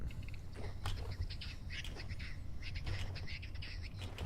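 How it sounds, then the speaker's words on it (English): Turkeys calling in the game Vintage Story, a series of squawking, gobbling bird calls at mid distance over a steady low ambient rumble, with no speech. "they're just turkeys"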